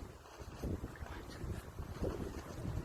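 Gusts of wind buffet the microphone in uneven bursts, a low blustery rumble that swells and fades across the moment, with no voices.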